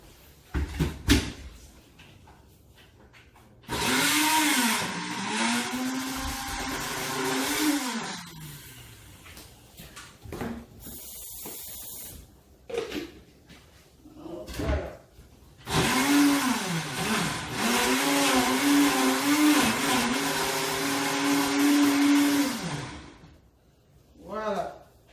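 A blender grinds ingredients for a Congolese catfish liboke with a little added water, its motor whirring in two long, loud bursts separated by quieter gaps.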